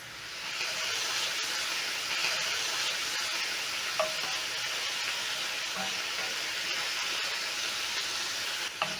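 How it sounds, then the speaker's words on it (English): Meat browning in a hot pan while chips vuruga is made gives off a steady, loud, close sizzle with a few soft taps of stirring or turning. "Browning the meat is going to add some extra flavor to our chips vuruga."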